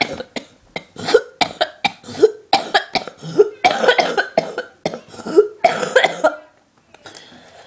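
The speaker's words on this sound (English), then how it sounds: "I'm coughing more at the moment." A person coughs in a long series of harsh, close bursts, grouped in quick runs with brief pauses, then falls silent near the end.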